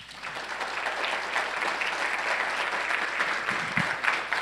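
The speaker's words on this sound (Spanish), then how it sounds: "Regálele un aplauso al Señor." A church congregation at a conference claps together in sustained applause. The clapping is fairly soft and even and carries on for several seconds.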